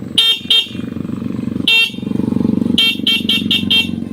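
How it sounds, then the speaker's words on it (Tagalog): Several loud, short horn beeps from a Skygo 150 motorcycle, two quick honks, a longer one, then a rapid run of toots, over a steady idling engine. "Tapos, next naman na ginawa natin yung kanyang busina."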